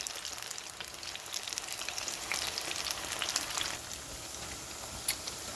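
Pakoras made with potato, onion and spinach fry in oil with a soft, crackling, bubbling sizzle and a single sharp pop near the end.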